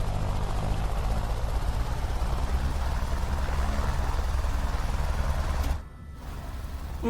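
An AS350 helicopter engine in a flight simulator runs loud and close with a steady, throbbing rotor drone, briefly dipping near the end before picking back up.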